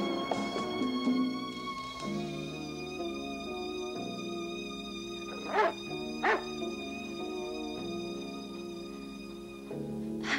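A dog barks in a French film from 1982, with a few sharp barks standing out around the middle and near the end over a steady background of music and ambient sound.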